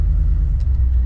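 A built truck engine runs with a deep, steady low rumble, fairly quiet for its build, over a very short stretch.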